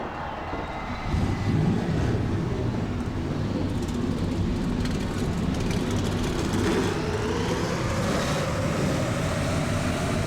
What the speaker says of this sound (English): 42 engines fire up, they're off pit road for the Pennsylvania 500 here at the Pocono Raceway.